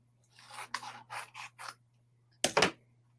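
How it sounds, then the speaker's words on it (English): Scissors trim excess flock off a stencil transfer in a series of short soft snips and rubbing strokes, then one louder, sharper cut near the end, with a faint steady hum in the background. "So I'm going to trim some of this excess flock off."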